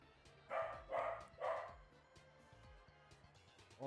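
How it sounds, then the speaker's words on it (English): A dog barking at a vent indoors, three sharp barks in quick succession, fairly close, followed by quiet. "Oh, you're barking at the vent."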